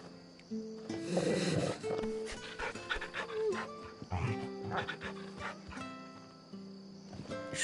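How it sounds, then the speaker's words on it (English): A dog in the Final Fantasy XVI video game pants in quick rhythmic breaths with soft whimpers and snuffles, close and clear over a quiet game background, with no voices. "You can pet the dog."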